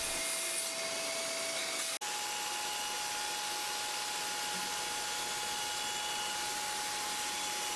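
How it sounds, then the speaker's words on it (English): A sander works over the soft surface of a kayak sailing pontoon, rounding the corners around the keel, giving a loud, steady abrasive hiss that runs without pause apart from one brief dropout. "sanding to iterate towards a smooth and even surface"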